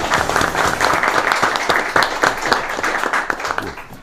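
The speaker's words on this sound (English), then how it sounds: "And the crowd goes wild." A studio audience at a TV quiz show bursts into lively applause, dense clapping that holds strong and tapers off slightly at the end.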